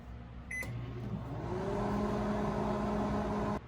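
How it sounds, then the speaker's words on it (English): A microwave oven starts with a beep and a click, then hums and whirs steadily and fairly loudly before stopping abruptly. "Microwave for 1 minute."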